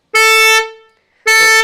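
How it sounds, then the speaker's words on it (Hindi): Creta car horn fitted on a Thar Roxx honking, two loud close blasts of a single steady tone, the first about half a second long with a fading tail, separated by a short silence. "इसकी वजह से एक हॉर्न नहीं बज रहा है"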